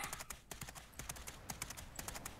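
Horse hooves cantering in the Pippa Funnell: Take The Reins video game, a steady rhythmic clip-clop of hoofbeats, faint and continuous over a soft background hiss.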